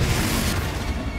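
A Bombarda spell explodes in Hogwarts Legacy, a dense, booming blast with low rumble and hiss filling the whole moment, loud and sustained without clear separate hits.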